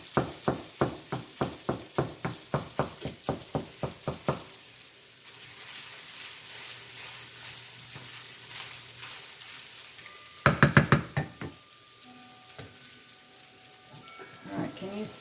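Pork, onions and mushrooms frying in a pan: a quick run of rhythmic scraping stirs up close, then a quieter sizzle with a voice speaking, and another short burst of stirring near the end.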